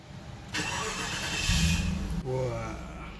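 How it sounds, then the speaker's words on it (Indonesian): A 1995 Infiniti Q45 4.5-litre V8 engine cranks and catches, settling into a smooth, deep idle that hums on after a brief surge. "Itulah suara mesin dari 4500 cc V8"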